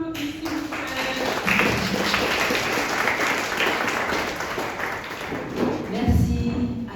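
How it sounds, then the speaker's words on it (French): Audience applause at a talk on the cost of living in French Guiana, steady mid-level clapping throughout with a few heavier thumps near the end. "On l'applaudit, s'il vous plaît."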